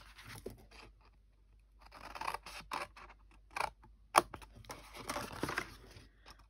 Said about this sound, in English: we're going to cut up each score line, or you can just come in and cut diagonally either side of the score line